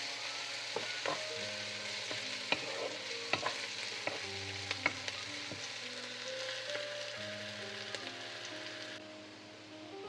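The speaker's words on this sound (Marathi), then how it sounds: "एक आतां ऑनियना ब्रावन जायसर फ्राय करता हांव" Onions fry in a pan while cooking a mushroom tikka, a quiet, continuous sizzle with occasional stirring clicks and spatters, heard alone without talk.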